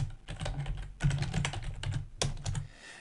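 Rapid typing on a computer keyboard during a text-based online game session, with irregular clusters of close, crisp key clicks and short pauses between bursts.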